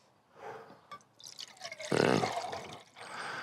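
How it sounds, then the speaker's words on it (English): Water, 500 ml, pours into a Jetboil stove's cup, starting with a few drips and then a steady close trickle that grows fuller and louder partway through. "what I'm going to add, 500 mils of water."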